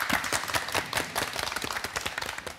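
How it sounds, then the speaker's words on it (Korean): An audience applauds a lecture, a dense, steady patter of many hands clapping at moderate volume for a few seconds without any talking. "박수로 강연 청해 듣겠습니다."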